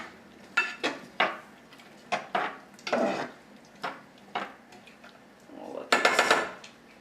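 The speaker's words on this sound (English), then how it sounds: "Give it a stir." A spoon stirs glazing food in a pot, producing a series of distinct clinks and scrapes against the metal, close and moderately loud, with one longer rattling burst near the end.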